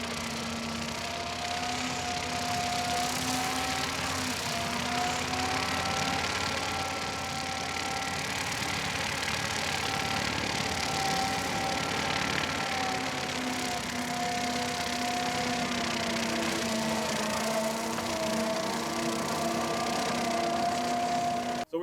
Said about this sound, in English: So I'm really impressed with the quality and the performance of this mower on this skid steer loader.